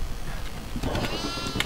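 A goat in the horror video game Devour gives a bleat, with a few short wavering cries over a low, murky background rumble; no speech.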